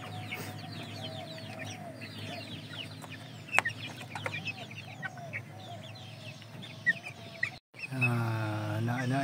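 Chickens and chicks at a rural yard with grassy ground: scattered soft clucks and high peeping chirps come and go at moderate distance, with a brief handling thump and louder rustle near the end.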